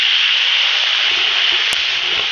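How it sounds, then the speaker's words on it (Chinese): Ginger, scallion and chili paste stir-fry in hot oil in an iron wok, a loud, steady close sizzle with faint scraping of stirring underneath. "烧油，炒点底料，"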